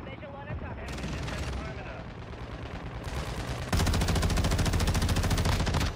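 Tempus Razorback rifle fire in Modern Warfare 2, rapid automatic bursts building into a sustained, loud stream of shots near the player, with game sounds and a voice mixed in.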